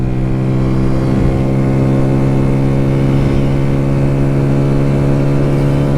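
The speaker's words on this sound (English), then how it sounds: "Maiden voyage of the CB125S. It goes along pretty good." A barn-find classic Honda CB125S motorcycle engine runs steadily at a constant, loud hum while riding along, with a strong even drone and no talk.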